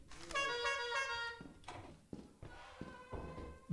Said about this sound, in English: Who's got an air horn?